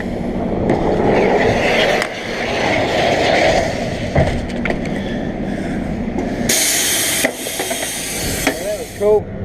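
A small train passes close by outdoors, giving a steady broadband rumble and hiss for several seconds. A sharp hissing burst and a few knocks come near the end.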